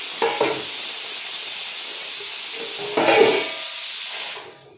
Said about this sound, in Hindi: देखो सीटी मारने लगा कुकर ना